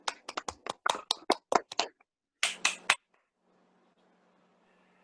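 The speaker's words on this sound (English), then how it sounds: "Let's give the participants or the table topics participants a round of applause." Applause from a small audience at a Toastmasters meeting after table topics, heard as roughly two seconds of rapid, fairly close hand claps, a short pause, then a brief second burst of clapping that fades into quiet room tone.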